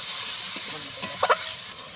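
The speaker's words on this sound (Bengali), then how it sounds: "কাঁচা ঝাল বাটাটা দিয়ে দিলাম, টমেটোটা এগুলো একটু লাড়াচাড়া করবো।" Green chili paste and tomato being sautéed in a pan, with a steady close sizzle and hiss and a few sharp clinks of a spatula stirring against the pan.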